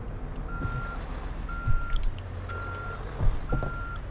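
A Scania S770 truck in Euro Truck Simulator 2 sounds evenly spaced reversing beeps, four clear tones over a low engine rumble, with a couple of soft thuds in between.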